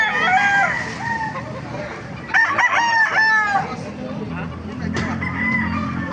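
Roosters crow loudly and close by at a market, several calls one after another, with faint murmuring voices between them.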